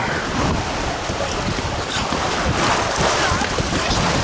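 A traditional East Coast sailing smack racing under sail in steady wind, with continuous loud wind buffeting and water rushing along the hull throughout, no talk.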